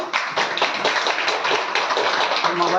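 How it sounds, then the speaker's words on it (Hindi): Audience clapping in a business meeting, a brisk burst of hand claps from a group, fairly close and steady throughout. "तो इस बिजनेस को एक बार ताली मिलनी चाहिए।"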